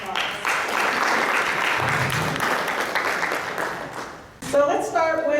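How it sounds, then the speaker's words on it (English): Audience at a real-estate panel event applauding the panelists, a steady round of clapping that fades out after about four seconds before a voice begins speaking. "So let's give them a round of applause."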